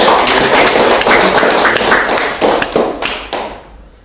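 Audience applause at a March general meeting of a small business association, a burst of close, dense hand clapping that starts strong and tapers off over a few seconds.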